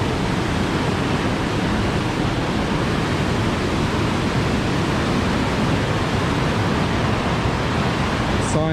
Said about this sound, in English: A lot of water pumping through.